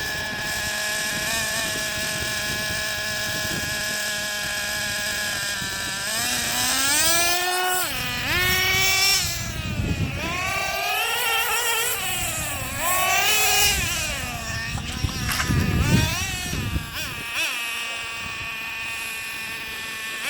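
A small high-revving engine in a 2008 Traxxas Revo 3.3 model drones steadily, its buzzing pitch rising and falling repeatedly as the throttle is worked, loud and close throughout.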